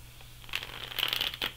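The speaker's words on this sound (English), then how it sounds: "Okay, I think we shuffled long enough." Tarot cards are shuffled in quick, papery riffles, close and fairly quiet, with no talking.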